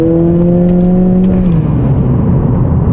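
Honda Accord fitted with an Axions downpipe and Thermal R&D exhaust revs up loudly, a strong rising drone that holds, then drops back toward idle at close range with no talking.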